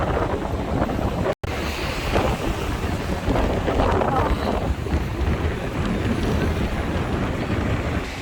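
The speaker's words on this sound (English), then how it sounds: "It's so windy and the sea is so choppy." Steady roar of strong wind buffeting the microphone over the wash of choppy sea at Kamakura, Japan, continuous and loud with one brief dropout.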